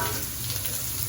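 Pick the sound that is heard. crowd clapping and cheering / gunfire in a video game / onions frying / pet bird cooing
onions frying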